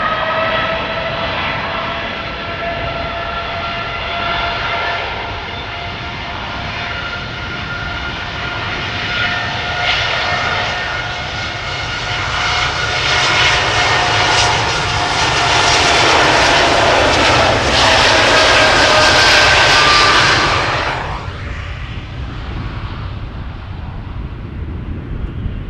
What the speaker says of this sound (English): Here it is. Next Queen, Silkway West Airlines.